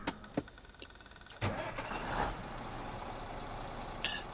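The Voron truck in SnowRunner idles and revs with a low rumbling engine drone that builds into a steady hum, with faint clicks and beeps over it.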